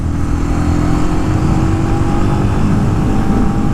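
A Honda CB250R motorcycle accelerating in fifth gear at low revs, its engine drone loud, close and steady throughout, with no talk.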